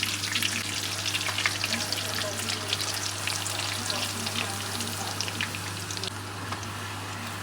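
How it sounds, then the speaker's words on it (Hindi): Puris deep frying in hot oil, a continuous crackling sizzle with dense bubbling at moderate level and no voices. "नॉन स्टॉप पूरियाँ बन रही हैं।"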